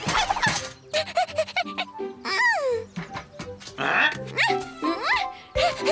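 Cartoon dogs bark and yip in short, excited bursts mixed with animated character voices talking and shouting over one another, the sounds close and lively throughout.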